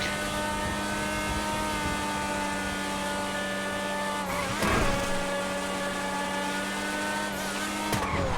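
Race car engines whine at high, sustained pitch in an Xbox racing game, with a loud steady drone and sudden shifts in engine pitch near the middle and end, and no talking.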